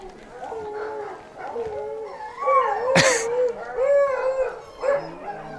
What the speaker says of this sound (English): There's a bit of a howl from the dogs being left behind